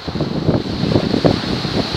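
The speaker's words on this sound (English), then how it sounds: "I love the sea, the waves" Waves wash onto a shingle beach at Shingle Street on the Suffolk coast, a loud, steady rushing surf mixed with strong wind buffeting the microphone.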